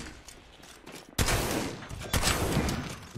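Gunfire in the Apex Legends video game, with a quiet lead-in followed by two sudden loud bursts of rapid shots, close and dense, with no talking.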